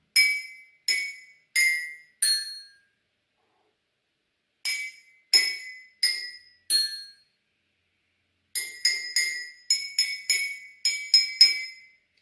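Water-filled glasses are struck in a series of bright, ringing clinks, first four single notes, then four more, then a quicker run of tones, each decaying quickly.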